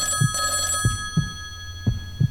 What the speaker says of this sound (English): I woke up to the phone ringing in my room.